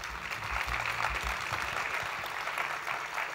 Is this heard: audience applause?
yes